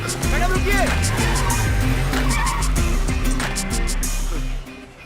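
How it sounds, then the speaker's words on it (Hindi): A car pulls away with tires skidding and squealing, its engine loud and near for several seconds before cutting off abruptly, with voices in the scene. "अरे वो देख, मैडम गाड़ी लेकर जा रही है।"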